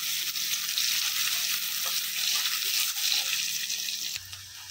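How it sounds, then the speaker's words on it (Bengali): Onions frying in a pan with cumin seeds give a steady, close, loud sizzle with no voices over it, then fade sharply to a quieter hiss near the end. "পেঁয়াজ ভাজা হয়ে গেছে"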